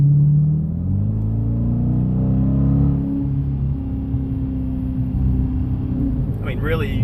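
A Dodge Challenger R/T engine rumbles and pulls as it accelerates out of a turn, a deep, steady drone heard from inside the car, with rising and falling harmonic tones and a brief voice near the end.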